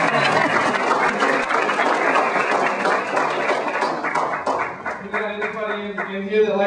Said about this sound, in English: Give her a round of applause just for putting up my joke.